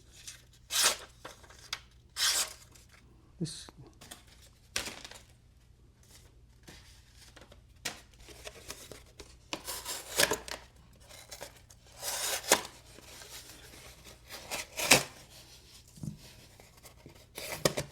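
A toothy fixed-blade EDC knife, Brisa Scara 60 or LT Wright Frontier First, slicing material in a string of short, sharp cutting strokes with quiet gaps between them, close and fairly faint, with no talking.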